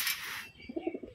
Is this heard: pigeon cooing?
yes